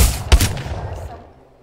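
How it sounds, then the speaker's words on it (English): A weapon in the Apex Legends game fires one loud, sharp shot, close and punchy, followed by a fading reverberant tail that dies away over about a second. "Can I try shooting them?"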